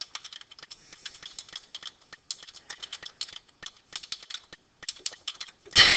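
Rapid, irregular clicking of keys on a keyboard, close and fairly faint, in bursts with short pauses, ending with a louder clatter.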